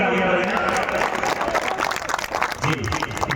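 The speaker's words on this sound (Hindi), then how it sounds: "एक बार पुरजोर तालियां बजाएं" An audience at a live poetry and song gathering breaks into loud applause and crowd noise that fills the whole moment, mixed with scattered voices.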